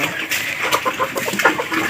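Darag native chickens, four hens and a rooster, clucking close by in a short burst of overlapping cackles and clucks over a noisy farmyard background.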